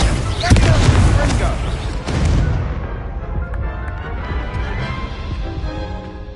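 Confringo blasting spells explode in the Hogwarts Legacy video game, a cluster of loud booming crashes in the first two seconds, then a long rumbling decay with a voice speaking over it.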